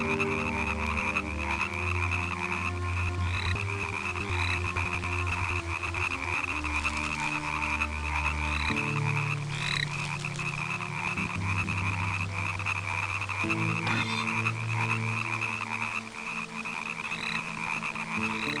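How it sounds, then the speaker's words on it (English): Frogs croaking in the video game Tlön: A Misty Story, a dense, steady chorus of overlapping croaks that carries on without a break and is heard alone. "There seems to be a lot of frogs in this area."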